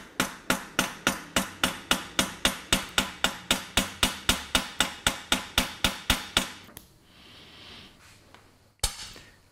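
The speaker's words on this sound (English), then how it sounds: "And I'll tap it with a hammer." Hammer tapping the red-hot end of a bicycle spoke, about twenty-five sharp, evenly spaced metallic taps in a fast steady rhythm, then a pause and one final strike.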